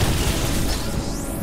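Bomb detonating in the video game Metroid Dread, a loud booming blast with a rumbling low end that trails off, followed by a rising whine, alone with no talk.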